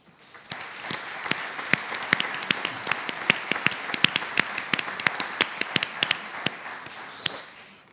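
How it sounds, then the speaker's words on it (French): An audience in a hall applauds steadily for several seconds, a dense spread of claps with sharper individual claps standing out, tapering off at the end. "Je vous prie de bien vouloir les applaudir."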